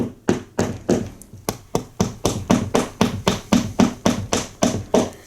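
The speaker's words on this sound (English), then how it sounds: "you can just take the butt of your screwdriver or a hammer," A wall anchor is tapped in with a hammer or screwdriver butt, about twenty sharp, evenly spaced knocks in a steady rhythm, close and loud with no talking.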